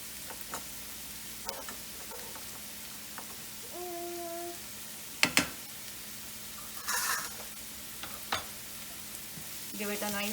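Paneer tikka masala, marinated with ginger, garlic and green chili, sizzles softly in a pan while a utensil stirs it, with sharp scrapes and clinks against the metal between quieter stretches of frying.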